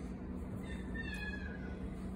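A cat gives a soft, brief chirping purr-meow at close range, a short trilling sound rising over a quiet, steady background hum.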